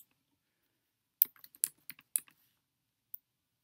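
Quiet, close typing on a computer keyboard: a short irregular cluster of about eight crisp key clicks, then a single final tap after a pause, with no talk.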